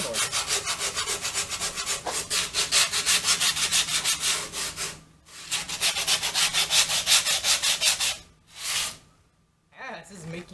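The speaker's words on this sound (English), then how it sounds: "Second time sanding the board." A wooden board being sanded by hand, with long runs of rhythmic rasping strokes broken by brief pauses, then a few short final passes, loud and close.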